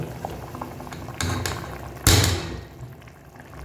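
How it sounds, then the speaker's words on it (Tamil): Rice boiling in a pot for Ambur mutton biryani, a dense bubbling and hissing wash with a sharper burst partway through, close and fairly loud, with no talking. "இது நல்லா பாயில் ஆகிடுச்சு"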